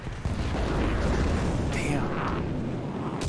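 A tank shell slams into the side of a turret in War Thunder tank battle gameplay, a loud, dense, rumbling impact sustained throughout with sharper crackling bursts near the end, the engine and battlefield din heavy underneath.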